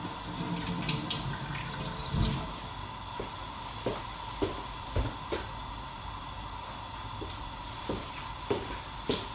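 Tap water runs steadily into a kitchen sink as hands are washed after handling beef, a constant close hiss broken by scattered small splashes and knocks.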